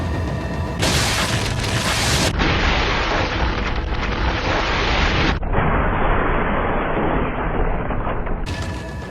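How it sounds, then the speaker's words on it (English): A fully upgraded Magnum hand cannon fires in a video game, with a headshot bursting an enemy villager's head: booming, explosive blasts with heavy low-end weight, sustained at loud volume with abrupt tonal shifts between segments and no talking. "taking the most powerful Magnum fully upgraded, which is this, the hand cannon, to a regular standard Ganado lady's head and exploding it"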